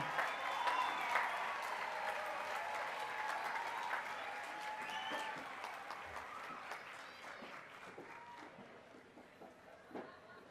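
Sustained applause from a commencement audience congratulating graduates, a steady wash of clapping in a large hall that slowly tapers off, with scattered cheers.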